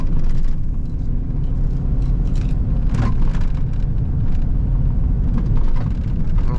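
A truck rolls over filled-in potholes at about 33 mph, heard from inside as a steady loud low road rumble with faint thumps from the patched surface and no voices.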